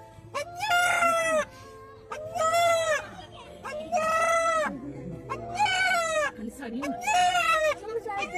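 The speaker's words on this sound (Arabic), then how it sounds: "لن تصدق أن الديك الذي يصيح كل صباح قد يخرج منه هذا الصوت" Rooster crowing from a played recording: five long harmonic crows repeat in a steady rhythm, each about a second long, fairly loud and close.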